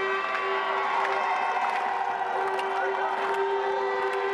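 A home crowd cheers at a men's ski slalom at a winter sports event, a steady distant roar laced with horns and whistles, one strong sustained tone running throughout.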